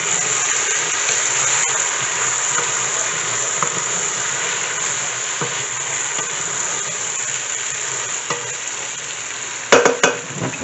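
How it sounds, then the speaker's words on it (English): Boiled chana being stirred in a pot with a spoon, a steady close scraping and sizzling texture throughout, ending in a few sharper clanks against the metal. "Give this a stir."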